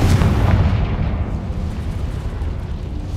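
Spell explosions from Bombardus and Confringo in the video game Hogwarts Legacy burst loudly at the start, then settle into a long rumbling roar that fades over a few seconds.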